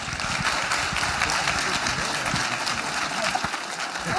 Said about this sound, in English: give all of our speakers today a big round of applause